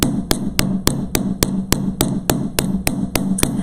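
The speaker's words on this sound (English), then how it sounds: "and I'm going to hammer" Hammer strikes on wire for beadwork, a steady series of about a dozen sharp, evenly spaced taps, close and fairly loud, over a low background hum with no talking.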